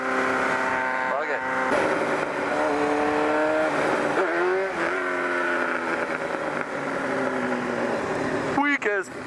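A 250 motorcycle engine revs hard at a night gathering of several bikes, its pitch sweeping up and down in repeated loud, close blips with a steady drone between them.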